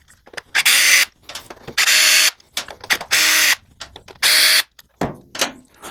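A 3/8-inch socket on a ratchet loosens the valve cover bolts of a Briggs & Stratton Intek 22V engine on a Husqvarna. Close, loud bursts of rapid ratchet clicking repeat several times, separated by short pauses and small knocks.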